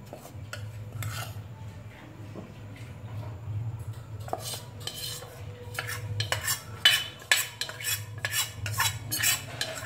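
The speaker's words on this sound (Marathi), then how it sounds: "बेसन भाजण्यासाठी तूप गरम झालंय, त्यामध्ये आपण बेसन घालून ढवळूयात." Gram flour being stirred into hot ghee for besan ladoo, a spoon scraping and clinking against a metal pan in steady, irregular strokes with a soft low hum beneath, growing busier and louder toward the end.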